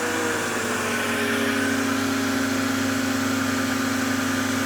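A Karcher electric pressure washer fitted with a 1.9 orifice booster nozzle runs at full load, a steady loud motor and pump drone with a high hissing spray throughout, no voices.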